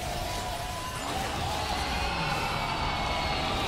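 An esports arena crowd at the MSI 2023 League of Legends tournament roars and cheers in a steady, sustained wash of noise, heard from a distance throughout.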